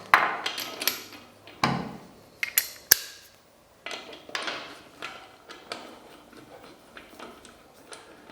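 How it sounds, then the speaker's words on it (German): Screws are worked out of a BMW motorcycle's four-hole rear wheel rim with a homemade tool. Quiet, irregular metallic clicks, knocks and ratchety ticks come in scattered bursts, with short pauses between them. "dann machen wir einfach 2 Schrauben raus"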